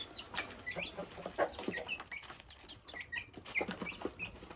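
Broiler chickens on a local poultry farm cluck and chirp in short, overlapping calls, a small flock heard fairly close against a faint background hiss, with no voices.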